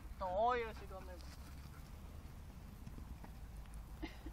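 Horses walking on an outdoor field, their hooves clip-clopping softly and steadily in the background, with a brief voice near the start and a faint bird-like chirp at the end.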